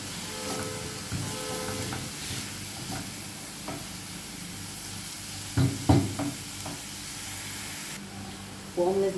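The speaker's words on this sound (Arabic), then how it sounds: "ناخد كده تشويحه مع البصل والثوم اهو" Shrimp with onion and garlic sauté in a pan, a steady soft sizzle with occasional stirring scrapes and clatters, close by, with brief speech.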